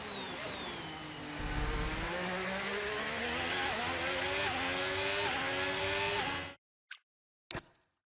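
A Formula 1 car in the video game F1 25 screams past at high revs, the engine pitch climbing and shifting through gears for several seconds before cutting abruptly to silence, followed by a couple of brief bursts.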